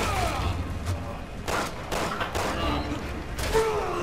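Gunfire in Resident Evil 6 striking the player, a ragged run of sharp shots and thuds in irregular bursts, with a low game rumble beneath and no talk.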